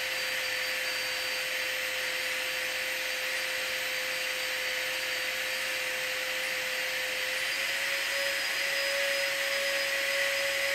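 A Nitecore AP10 rechargeable inflator runs continuously with a loud, steady motor whine and a constant airy rush, its pitch rising slightly near the end.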